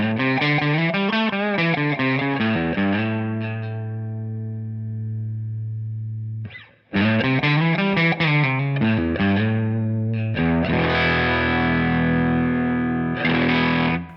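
Electric guitar played through a Tonex Matchless amp model with the depth control turned all the way down, giving distorted, thin-bottomed riffs and sustained chords, with a brief break midway and no talking.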